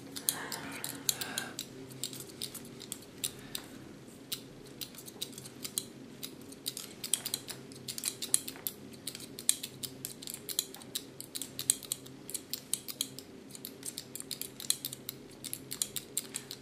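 Scissors snip through hair during a haircut on a grow-back hairstyle, giving many quick, close metallic clicks in a steady irregular rhythm with no talking.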